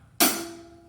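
One hi-hat stroke on a drum kit, played on the offbeat in 4/4: a bright, close metallic tick with a short shimmering tail and a faint ringing tone, heard alone.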